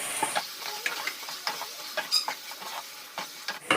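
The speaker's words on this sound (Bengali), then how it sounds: "পেঁয়াজটা ভেজে নিয়েছি এবার দিয়ে দেবো ক্যাপসিকাম আর টমেটো একসাথেই দিয়ে দেবো" Capsicum and tomato tossed into onions already frying in a pan for egg curry, a busy close sizzle with scattered clinks and scrapes of a spoon stirring, moderately quiet and steady.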